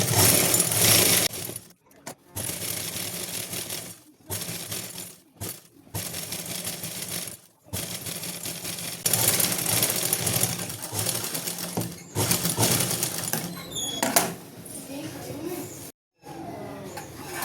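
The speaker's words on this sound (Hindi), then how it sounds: "अब हम यहाँ पे डबल सिलाई लगाएंगे" A sewing machine double-stitching a salwar hem runs in repeated bursts, its rapid whir stopping and restarting several times, with brief quiet gaps between runs.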